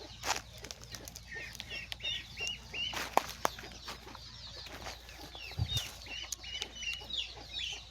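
Native country chickens cluck softly and repeatedly nearby, with scattered flutters of wings and brief rustling in between.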